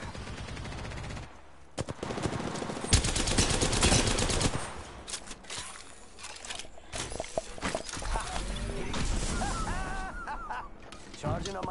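Gunfire in an Apex Legends ranked match: rapid automatic bursts and single shots crackle repeatedly at close range, with game sound effects and voices underneath.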